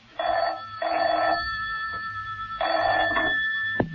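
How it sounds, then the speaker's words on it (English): An old-fashioned telephone bell rings in two long bursts separated by a pause, loud and close in an indoor setting. "A short while after this, John Steed's telephone rang."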